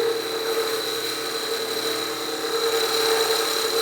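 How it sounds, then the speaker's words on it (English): A wood lathe spins a wooden whistle blank while a rolled-over spindle gouge takes a light shear scraping cut, giving a steady motor hum with a thin high whine and slight vibration and no speech. "So now I'm going to switch to that shear scraping cut where I've rolled over that spindle gouge."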